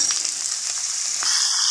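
Finely chopped potatoes hitting hot oil with browned onions, a loud, bright hiss of frying that carries on steadily and shifts in tone partway through, with no one speaking.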